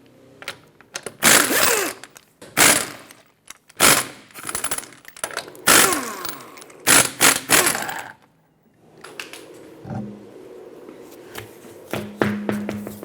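Lug nuts being loosened from a Mazda 6 wheel with a 21mm socket, as repeated loud bursts of ratcheting and impact rattling separated by short pauses, then quieter metallic clicks and taps near the end.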